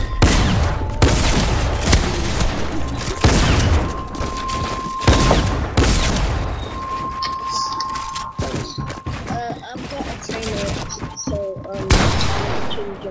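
Video game gunfire in bursts of loud, sharp shots and thuds spread over several seconds, with pauses between volleys and people talking over the action.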